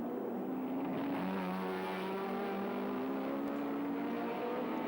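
Touring race cars at Sandown launch into the start of a 1984 Australian Touring Car Championship round; a faint, continuous engine howl with layered rising tones comes from some distance.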